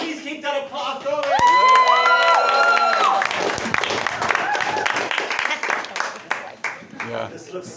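A comedy show audience breaks into loud sustained applause and cheering, dense clapping with whoops, while some tonal sounds rise over the opening seconds.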